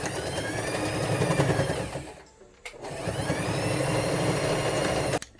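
Sewing machine running steadily while stitching a fabric pencil case, a continuous whirring motor drone that pauses briefly midway before resuming.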